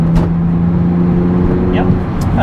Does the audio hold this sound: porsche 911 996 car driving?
yes